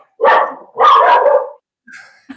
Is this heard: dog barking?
yes